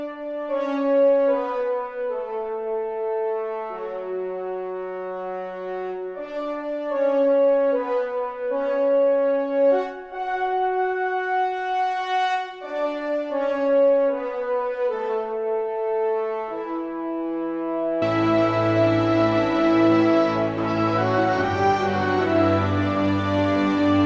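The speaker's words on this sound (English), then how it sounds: "And collectively, the horns will sound like this." An orchestral horn section plays a melody from Final Fantasy VII in smooth sustained lines, then swells into a fuller, deeper voicing for the final stretch, with no talking.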